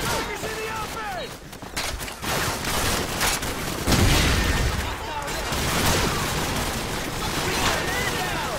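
Gunfire in the video game Call of Duty: Modern Warfare: dense, continuous bursts of rifle and machine-gun fire with booming impacts, loud and sustained, under shouted in-game voices.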